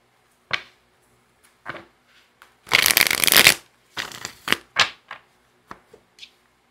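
A tarot card deck is shuffled in sharp close riffles and taps, with one long burst of fluttering cards in the middle and quieter single flicks before and after.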